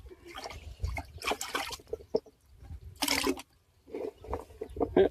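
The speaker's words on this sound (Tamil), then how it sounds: "அழுக்கு போற மாதிரி கழுவுங்க." Wild yam tubers freshly harvested from a village garden are washed by hand in water, with bursts of splashing and sloshing separated by short pauses, close and moderately loud.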